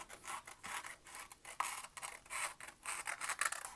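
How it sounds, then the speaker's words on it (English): Scissors snip through a toilet paper roll for a fire-breathing dragon craft, a close, quiet run of rapid rubbing, crunching cuts in uneven bursts. "I'm going to go ahead and cut this much off."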